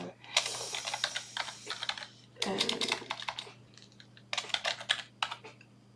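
Computer keyboard typing at a desk while entering an address into a form, bursts of quick key clicks separated by short pauses, fairly close and clear.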